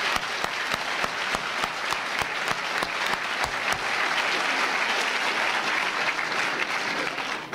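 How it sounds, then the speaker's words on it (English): A university lecture crowd at the University of Tennessee, Knoxville applauds a speech. Sharp, separate claps at the start swell into a dense, sustained round of applause that carries on to the end. "I'd like to give you a round of applause for coming"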